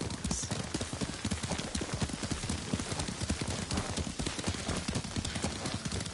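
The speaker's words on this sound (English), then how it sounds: "Lord Sakai taught me to ride a horse." Hooves of a ridden horse in a video game, a fast, steady clip-clop that runs without a break, loud and close, over a rushing bed of noise.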